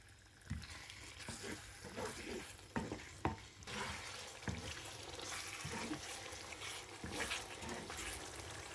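Chicken tikka masala simmering in a pan, a steady soft sizzle broken by repeated scraping stirs and clinks of a utensil, close and moderately quiet with no voices.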